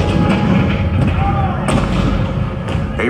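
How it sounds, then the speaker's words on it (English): Cannon fire effect in a Disneyland attraction's Civil War narration: a dense, loud booming rumble with heavy thuds that fills the whole stretch without pause. "1861, Fort Sumter. The cannons spoke for war."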